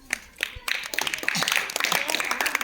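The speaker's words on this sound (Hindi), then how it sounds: "ताली ज़्यादा इसके लिए" Students in a classroom clap together in a loose, brisk burst of many quick claps that grows louder, with some voices mixed in.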